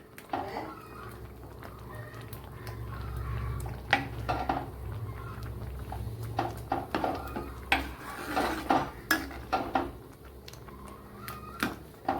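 Cooked pumpkin being mashed in a pot for a Kerala-style curry, with a run of soft scraping and knocking strokes against the pot that come close and fairly quiet, under a low steady background hum.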